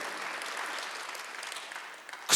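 A church congregation at a Sunday worship service breaks into applause, steady and full at first, then easing slightly before a brief sharp noise at the end.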